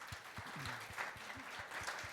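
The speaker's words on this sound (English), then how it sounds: "Please give them a warm welcome and round of applause." Faint audience applause welcomes a business growth panel onto the stage, a short burst of scattered clapping heard from a distance at low level.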